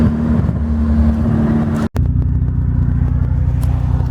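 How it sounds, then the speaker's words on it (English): A turbocharged wagon with a boost controller and open exhaust makes a loud full-throttle pull, a harsh engine drone that cuts out abruptly for a split second before roaring straight back on at an even pitch. "we'll do a full throttle pull all the way down this road"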